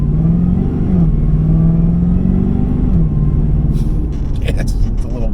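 A Cadillac CTS-V wagon accelerates through its gears with a loud, continuous engine drone that rises in pitch, drops at a shift, then climbs again. Cabin rumble sits underneath, and a few faint knocks come near the end.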